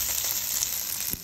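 Onions sizzling steadily in an oiled pan for ginataang gulay, a continuous close hiss of frying with faint stirring crackles and no voices.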